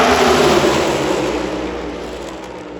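NASCAR race cars roar past on the final lap at Talladega Superspeedway, a loud, continuous engine drone heard from the stands that slowly fades as the pack moves away.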